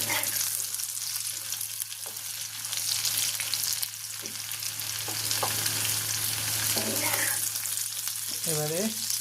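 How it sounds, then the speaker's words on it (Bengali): Soya chunks frying crisp in hot oil, a constant bright sizzle with occasional spoon scrapes and a low steady hum beneath, and a brief voice-like wobble near the end. "ক্রিস্পি করে ভেজে নিলাম।"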